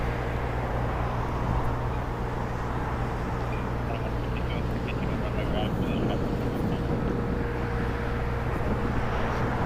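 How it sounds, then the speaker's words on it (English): Aircraft at LAX airport: a steady, distant jet roar with a broad rumble that holds evenly throughout without a clear rise or fall. "we got the plane noises"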